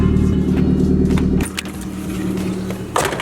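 An SR20-swapped Nissan 240SX idles with a loud, deep engine drone from inside the cabin, then drops to a quieter rumble with a few clicks and rattles, briefly rising again near the end.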